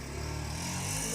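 An auto rickshaw drives past close by, its small engine giving a steady low putter that thickens slightly toward the end of the brief pass.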